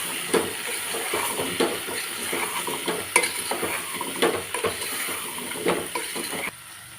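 Taro pieces are stirred in a sizzling pan with a spoon, giving a soft frying hiss broken by a series of scraping strokes, and the sound drops away near the end.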